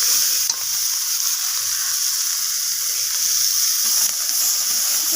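Spice paste for rohu fish kalia fries steadily in hot oil with green chillies and chopped coriander leaves added, a dense, continuous close sizzle with no talk over it.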